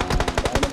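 An M249 light machine gun fires in the mobile game PUBG Mobile. Close, loud shots come in one rapid burst of about nine evenly spaced reports.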